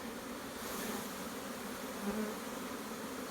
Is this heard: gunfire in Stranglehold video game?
no